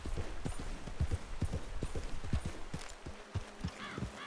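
Horse hooves clip-clop steadily in Red Dead Redemption 2, a brisk series of distinct thuds at walking pace, close and clear over a low ambient bed of game sound.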